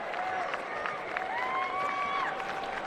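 The Camden Catholic crowd cheers a state wrestling champion at Boardwalk Hall, a distant, sustained roar of voices and clapping with occasional whistles, steady throughout.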